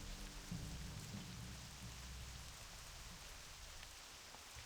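Heavy rain in Ashenvale in World of Warcraft falls as a dense, steady hiss, with low rumbling undertones and scattered drop sounds throughout and no voices.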